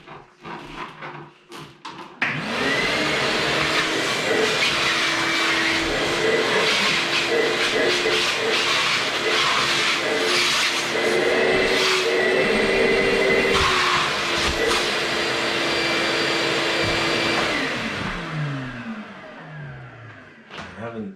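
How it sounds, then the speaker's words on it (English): Shop vacuum roaring steadily in a workshop, switching on after about two seconds, running loud and continuous with a drifting whine, then winding down near the end. "run the vacuum"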